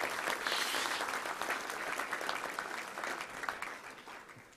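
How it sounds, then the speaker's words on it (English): Audience applause at a Little Rock Touchdown Club luncheon, steady clapping from a room full of people that stays loud for several seconds before slowly thinning out. "Let's give it a round of applause to Debbie, our volunteers, and our whole sta"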